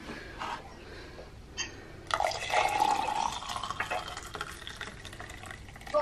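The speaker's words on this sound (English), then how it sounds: "So I've just put the water in." Hot water poured from a kettle onto ground coffee in a French press, a steady close pouring and filling rush that swells after a few quiet seconds, with faint clinks and drips around it.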